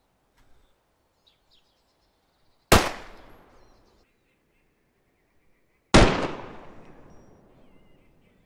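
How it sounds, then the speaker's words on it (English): Two sharp, loud Derringer pistol shots ring out in the video game DayZ, about three seconds apart, each a sudden crack with a fading echoing tail, and faint bird chirps between them. "I dropped him with the Derringer."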